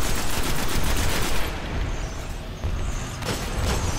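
Gunfire during a boss fight in Destiny against Phogo'th, with sustained rapid shooting and dense battle noise, loud throughout, easing briefly before resuming.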